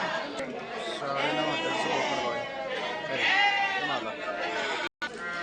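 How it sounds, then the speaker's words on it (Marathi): Goats bleat repeatedly at the Chakan goat market, a busy Saturday livestock market, with loud wavering calls overlapping near and far amid a constant murmur of crowd chatter. "जबरदस्त असा बकऱ्याचा बाजार म्हणजे चाकण बाजार."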